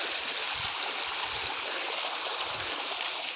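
Running stream water rushes in a continuous, even wash of noise, close and steady, with no voices.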